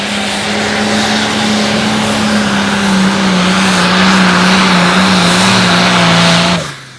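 The engine of a light limited pro stock pulling truck roars loud and sustained at an outdoor tractor pull, holding a steady droning pitch before cutting off abruptly near the end.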